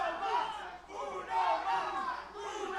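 Wrestling crowd in Paulsboro chanting "uno mas" in unison, a loud rhythmic group chant rising and falling in repeated phrases.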